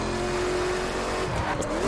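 A Chevrolet Corvette C7 Stingray in The Crew roars with a recycled ZR1 V8 engine note, sustained and loud while drifting, with a hint of tire squeal near the end.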